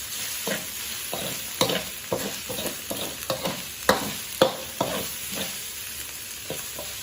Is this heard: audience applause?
no